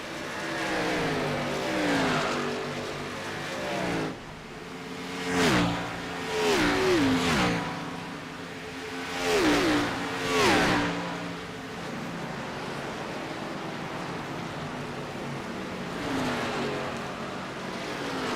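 Xfinity Series stock cars lap Nashville Superspeedway, engines droning steadily with several louder passes sweeping by in a cluster mid-way, rising and falling in pitch as cars close in and pull away.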